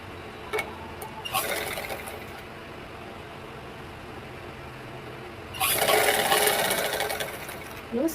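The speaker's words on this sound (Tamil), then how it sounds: "லைனிங்கை நம்மளோட ரைட் சைடு திருப்பி விட்டு மேல் தையல் அடிச்சுக்கலாம்." Sewing machine top-stitching a blouse lining, heard close up as a short whirring burst early on and then a longer, louder steady run of stitching near the end.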